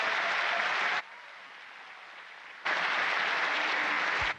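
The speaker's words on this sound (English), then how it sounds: "we'd like to all give you a round of applause" Students clap for the International Space Station crew in bursts, a steady wash of applause that stops for a short pause before resuming just as strongly.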